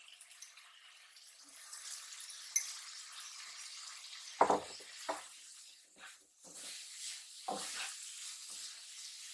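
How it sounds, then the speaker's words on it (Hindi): Vermicelli is roasted in a pan with cooked potatoes, giving a soft frying sizzle with scattered scraping and stirring clatters, close and quiet, and no voice. "जवे डाल के थोड़ा अच्छे से इसे इसी में भून देना है, ऐसे धीरे धीरे मिक्स करना है।"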